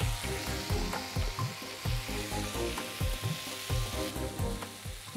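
Dried red chillies and bottle gourd pieces fry in a pan, giving a steady, close sizzle with repeated scraping and stirring strokes throughout.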